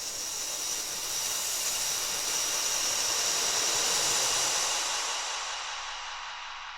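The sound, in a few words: vocal hiss imitating cymbal swell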